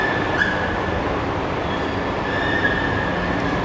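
A metro train at a Rapid KL station in Kuala Lumpur gives off a continuous rumble and rolling roar, close by, with faint high wheel squeals over the steady noise and no speech.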